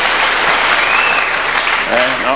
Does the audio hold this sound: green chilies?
no